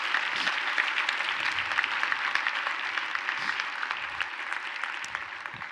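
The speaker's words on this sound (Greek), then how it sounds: "ένα δυνατό χειροκρότημα" An audience gives steady, fairly distant applause at a live presentation, a dense, even patter of clapping hands that lasts throughout with no voices over it.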